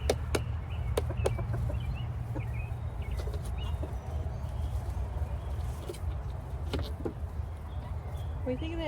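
Chickens in a farm coop, with scattered short clucks and peeps over a steady low hum of insects or fans, some nearby and some farther off, with no other voices.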